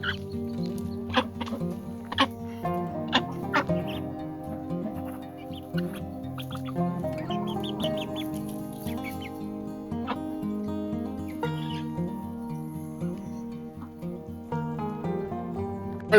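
Chickens and young Pekin ducks in a yard keep up a steady chorus of clucks, chirps and calls, fairly close and continuous, with no voices over them.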